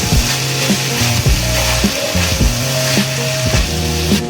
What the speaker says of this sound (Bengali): এই পর্যায়ে আমার সবগুলো সবজি চালের সাথে নেড়ে চেড়ে